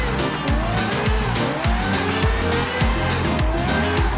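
Aston Martin Valkyrie AMR Pro in a racing video game, drifting with a high-revving engine and repeated gear shifts while the tires squeal continuously through the slide, loud and close.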